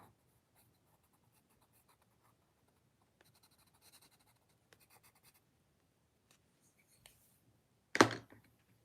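Pencil drawing on sketchbook paper, a faint scratchy scribbling that comes and goes in short bursts, ending in a single sharp knock near the end.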